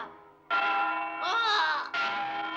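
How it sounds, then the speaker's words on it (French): Church bells of a cathedral in an animated cartoon ring out loud and sustained, with rich ringing tones that swell and overlap in a brief burst before a fresh strike renews them. "Les cloches de la cathédrale sonnent jamais à cette heure-là."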